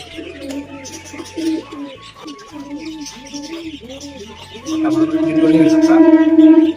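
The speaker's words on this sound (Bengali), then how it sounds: "আর এখানে ভিতরে একটা পায়রা রয়েছে" Several pigeons coo in repeated low, rolling bursts nearby, growing fuller and louder toward the end, with faint chirps mixed in.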